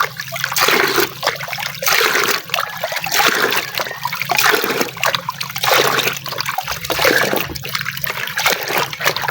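Water splashes and trickles in uneven bursts while plants are watered by hand, a loud close pattern of repeated pours and splatters with short gaps between them.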